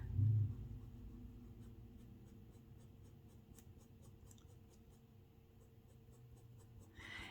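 A marker scratches quick, flicked strokes across paper while doodling a cactus, a series of short, dry scratches at an irregular rhythm, faint and close over a low background hum.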